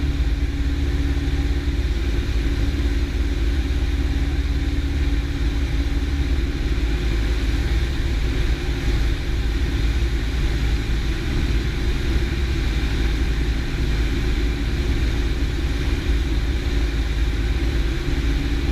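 Small single-engine airplane running steadily through a touch-and-go traffic pattern, a loud continuous engine drone and cabin rumble filling the whole stretch with no talk over it.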